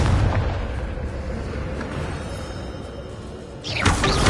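A Confringo blasting spell explosion in the video game Hogwarts Legacy, a deep rumbling boom with rolling low-end that swells, fades, then hits again with a fresh burst near the end.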